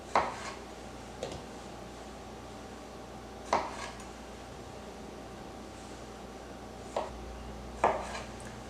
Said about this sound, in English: we're going to cut up a pint of grape tomatoes